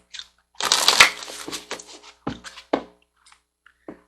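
Soul Coaching Oracle cards are shuffled close by for a reading: a dense, riffling burst of card flutter, then several shorter slaps and riffles trailing off into quiet.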